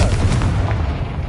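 A Confringo fire spell explodes in Hogwarts Legacy, a single close, booming blast with a sharp crackling burst that rumbles briefly and fades.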